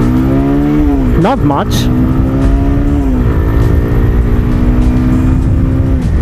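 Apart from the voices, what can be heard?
Bajaj Pulsar 150 motorcycle engine revving past 6,000 RPM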